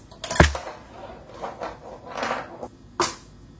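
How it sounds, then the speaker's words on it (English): A few sharp, rattly snare-like hits from a marble striking a homemade rice-filled snare drum, buzzy and gritty, spaced irregularly, close and fairly quiet with no talking. "because the rice is what's doing the whole snare-ish kind of sound."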